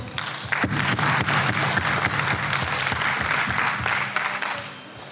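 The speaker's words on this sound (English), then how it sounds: "Please give a round of applause." Loud, dense applause from an audience at a student union freshers' meet, rising quickly and sustained steadily throughout before tapering slightly at the end, with no talking over it.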